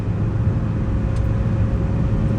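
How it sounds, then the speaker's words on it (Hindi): Steady low engine drone with road rumble from inside a 2024 Maruti Eeco CNG van at about 100 km/h on a highway, constant and fairly loud with no talking. "100 पे जाने के बाद जो है इंजन थोड़ा बहुत तो आवाज़ करेगा ही"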